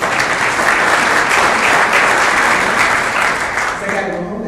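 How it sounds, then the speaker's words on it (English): A room of attendees at a Rotary Club of York, Pennsylvania luncheon bursts into loud, dense applause for the school board president, a continuous wash of many clapping hands that tapers slightly toward the end. "Pause for applause"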